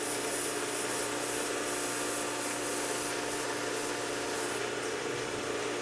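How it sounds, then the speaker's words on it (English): A serrated knife blade being sharpened on a fine-grit abrasive belt of a WS2000 sharpening system, a continuous loud whirring, rasping grind with a steady hum, close up and alone with no talking. "only sharpen your serrated blades on the right hand side of the knife guide"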